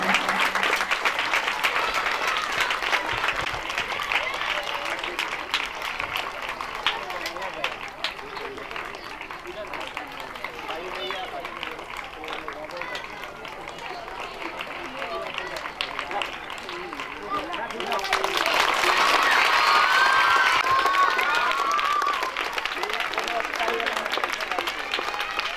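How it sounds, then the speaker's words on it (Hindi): Children applauding at a 15th August celebration to welcome the chief minister, loose continuous clapping from a crowd that swells louder near the end, with voices mixed in. "बच्चे तालियों से उनका स्वागत करें।"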